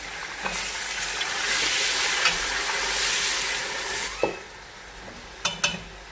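Meat sizzling and frying in a pot with golden-browned onions for aloo gosht, a steady broad hiss with occasional sharper pops and clinks of stirring, no talk.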